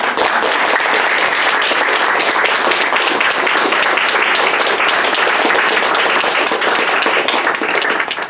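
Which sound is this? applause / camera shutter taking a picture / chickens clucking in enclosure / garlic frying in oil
applause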